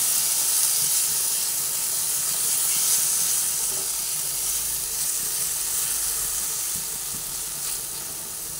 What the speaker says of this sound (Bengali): এবার একসঙ্গে এটা ভেজে নিচ্ছি।